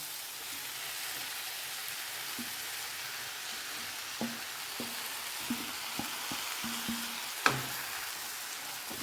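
Fried egg and fenugreek leaf bhurji being stirred in a pan, a steady soft sizzle with a few scattered spoon scrapes and taps, including one sharper clink near the end.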